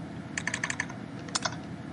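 Clicky keystrokes on a computer keyboard, a quick burst of about six taps followed by a pause and a second short cluster of presses, close and fairly quiet with no voices.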